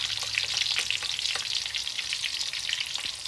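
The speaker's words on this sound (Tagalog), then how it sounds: "So ngayon, nagigisa na tayo." Garlic and onion sauté in hot oil for Filipino bistek Tagalog, a continuous close sizzle with light stirring scrapes and no talk.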